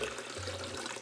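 Water pours steadily into a container for a viral TikTok chocolate-chip recipe, a continuous close splashing stream with no talk.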